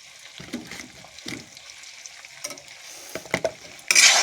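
Ginger, onion and garlic pastes with cumin powder being sautéed in a pan, with intermittent scraping stirs and soft sizzling bursts, ending in a louder sizzle.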